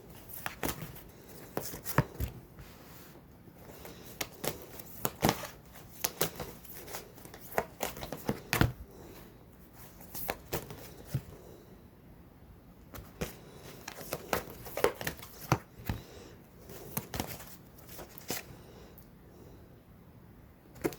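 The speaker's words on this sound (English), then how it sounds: "I'm just still shuffling." Tarot cards being shuffled by hand during a reading, a steady run of soft riffling and sharp papery snaps and flicks close by, with no talking over them.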